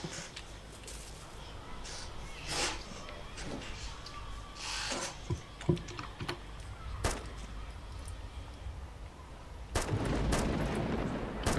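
Video game gunfire in Namalsk Crisis, a scatter of sharp shots and short bursts of varying loudness, some near and some distant, over a noisy background, with a louder crackling stretch toward the end.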